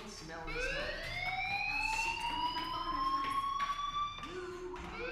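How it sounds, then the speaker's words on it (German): Electronic fire alarm in the video game Life is Strange, a loud rising-and-falling siren-like tone sounding continuously for several seconds with faint background activity beneath it. "Do you hear that fire alarm?"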